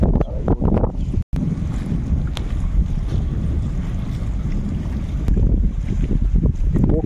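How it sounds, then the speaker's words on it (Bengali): A tourist boat passes on a river in the Sundarbans mangroves, its low engine drone and water wash heard under heavy wind buffeting on the microphone. "হ্যাঁ, এটা পর্যটকদেরই বোট"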